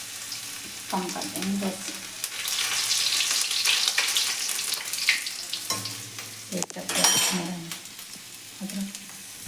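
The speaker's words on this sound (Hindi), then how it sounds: "अब इसको चला देंगे" Onion-garlic kadhi being stirred in a pan, a steady sizzle with scraping strokes of the spoon, and a voice speaking briefly near the end.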